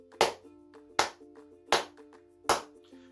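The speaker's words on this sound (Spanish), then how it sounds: "con mis dos manitas palmaditas doy" Four sharp hand claps, evenly spaced about three quarters of a second apart, played over a soft sustained musical backing in a children's quarantine music lesson, close and clear with no voices.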